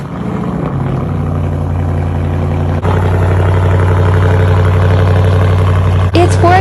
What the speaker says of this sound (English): Cold start on my straight pipe 2021 Dodge Durango RT.